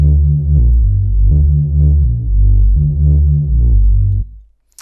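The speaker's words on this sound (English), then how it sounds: "Here we've got this Reese bass that sounds like this" Reese bass synth built from two sine waves with sync and light compression, droning loud and continuous in a throbbing, slowly pulsing pattern of sustained low notes before cutting off near the end; no voices.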